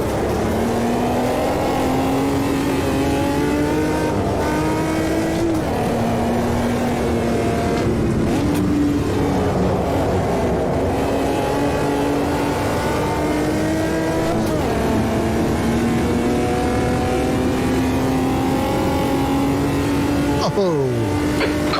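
A stock car in the Stock Car Brazil racing game revs hard and shifts through gears, its engine note climbing and dropping repeatedly, loud and continuous, with a player talking over it.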